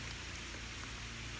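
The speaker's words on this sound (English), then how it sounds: "why did it have to start raining, guys?" Steady rain falls outdoors in a garden where pepper plants are being transplanted, a soft even hiss with no distinct drops or voices.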